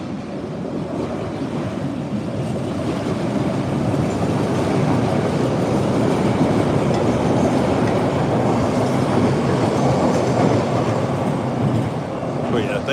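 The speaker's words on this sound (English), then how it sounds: "Let's watch the train go by." An MBTA Orange Line train passes at Forest Hills with a loud, sustained rumble and rhythmic wheel clatter that builds and holds across the whole stretch, close to the listener.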